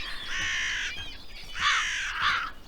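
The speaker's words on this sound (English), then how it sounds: "do you hear those birds?" Several crows cawing loudly in harsh, repeated bursts, a long call followed by two more shorter calls, close by with no talking.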